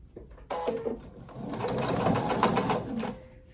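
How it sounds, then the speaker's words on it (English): A sewing machine stitches a short binding seam on a quilted glass case, one close, steady motor whir with rapid needle clatter that runs for about two and a half seconds after a brief faint start, with no talking. "And then I'm going to sew this short little seam here."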